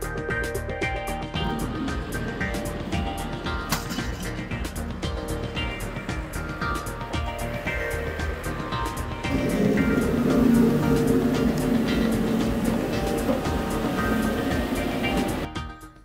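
A New Holland T9 tractor of 560 horsepower pulls a 7-metre Opus cultivator across a field on the Holkham Estate, a loud steady engine drone and rumble with a swell partway through that cuts off at the end.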